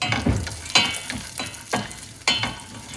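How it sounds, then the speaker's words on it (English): Cashew nuts sauteing in ghee in a pan for sweet potato payasam, with several distinct stirring scrapes over a soft, steady sizzle, close and fairly quiet, no talk. "So let's saute it for 2 minutes. Let the cashew nuts turn golden brown"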